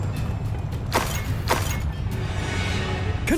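Bombarda spell impacts from Hogwarts Legacy: two sharp crashing bursts about half a second apart over steady low game rumble, with a faint third hit later.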